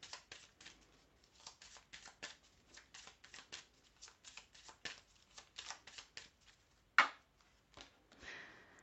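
Petit Lenormand cards are shuffled in a rapid, irregular run of soft riffling clicks and flutters, fairly close and quiet, with a sharper snap near the end.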